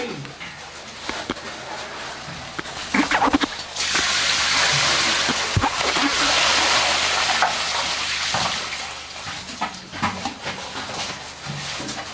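Water gurgles and rushes through a siphon pipe in a cave dig, a steady hissing wash that swells louder midway and then eases, with brief knocks and faint movement nearby.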